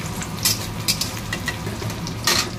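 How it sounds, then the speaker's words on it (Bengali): Onions frying in oil in a pan, a dense continuous sizzle with occasional brighter crackling bursts, close and steady throughout. "পেঁয়াজগুলো ভাজা হোক।"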